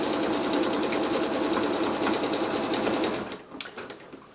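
A sewing machine runs steadily, stitching across a quilt block for about three seconds before slowing and stopping, leaving faint handling clicks near the end.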